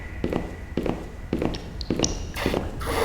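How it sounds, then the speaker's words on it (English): Footsteps in the horror video game Power Drill Massacre land as a run of distinct, evenly spaced thuds about half a second apart, followed by a couple of brighter hissing noises. "I freaking heard footsteps."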